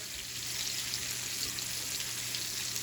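Salmon cooks in a pan with a constant, bright, close sizzle and spattering crackle that holds steady from start to finish.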